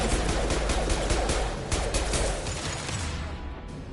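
A rapid burst of impact-shot gunfire in Mass Effect 2, loud dense crackling reports filling most of the stretch before trailing off near the end, with no talking over it.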